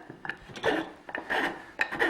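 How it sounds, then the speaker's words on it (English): A rasp rounds over the corners of a wooden tenon in quick, uneven scraping strokes, close and fairly quiet, with about four rough rasping pushes in a row. "So now I have to round over the corners on the tenon. And I just use a rasp"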